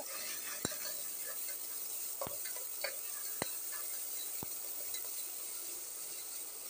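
Spiced ingredients for khushka rice sauté in a pan with a steady sizzle, while a spoon stirs and scrapes in a few sharp clicks.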